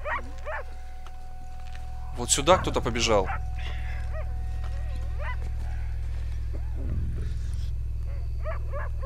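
A dog barks a few times inside the video game Red Dead Redemption 2, short sharp yelps in the middle, amid ambient game sounds and hoofbeats, while someone speaks quietly nearby.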